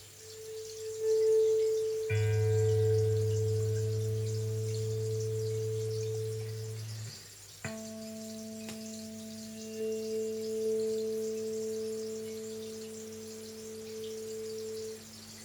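Electric guitar strings plucked and left to sustain in pairs while tuning by ear, clean steady tones holding for several seconds before a second attempt, quiet and close.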